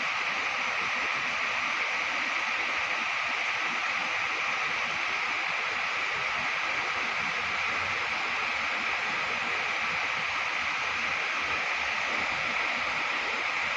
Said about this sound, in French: ça c'est le haut de la cascade apparemment.